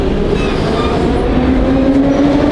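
An old-school Moscow metro train runs with a steady loud rumble and faint wheel squeal rising toward the end, no voices over the continuous rolling noise.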